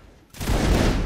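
Musket volley in a line-battle multiplayer game: after a brief quiet, a massed, loud crash of many muskets firing together rolls on in a dense, sustained roar.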